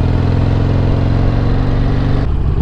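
A Harley-Davidson XL883L Superlow motorcycle engine with a loud exhaust rumbles steadily up close, deep and throaty, dropping slightly in tone near the end.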